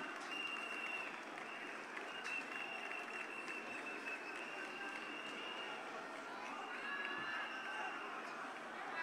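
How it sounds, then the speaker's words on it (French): Audience applauding at a political rally in Yopougon, Côte d'Ivoire, for a chief and his delegation: steady, dense clapping from a large crowd, moderately distant and continuous throughout, with faint voices mixed in. "On va applaudir très fort le chef Aga Alfred et sa délégation"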